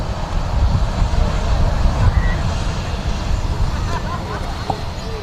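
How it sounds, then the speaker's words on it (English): A Cathay Pacific Airbus A350-1000 airliner taxis at Manchester Airport, its jet engines giving a loud, steady rumbling roar with a broad hiss that holds evenly throughout, close by in the open air. "have a look at Cathay Pacific A350 1000 on a taxi"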